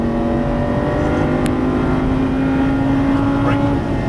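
A Lamborghini Gallardo Superleggera LP570-4 engine drones loudly and steadily right after an upshift, a sustained close-up tone holding a fairly even pitch throughout.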